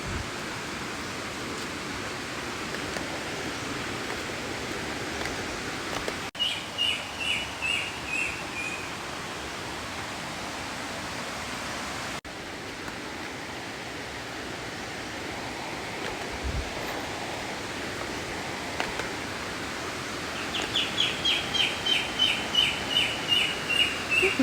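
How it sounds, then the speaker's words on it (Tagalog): A black-naped oriole calls in short repeated bursts, fairly distant, over a steady rushing background of wind or water in a coconut-grove setting in Bislig, Surigao del Sur. "May kilyawan."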